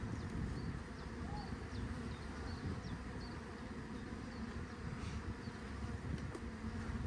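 Honeybees hum in a steady, dense drone at an open beehive during an inspection while a queen is introduced, the buzzing close and continuous throughout, with no voices heard.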